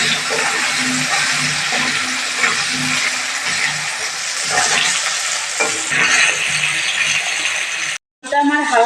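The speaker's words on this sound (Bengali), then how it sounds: "দিয়ে আলুটা একটু ভেজে নেবো আগে" Potatoes fry in oil with a little salt and turmeric, a dense, even sizzle up close that drops out for a moment near the end before it returns.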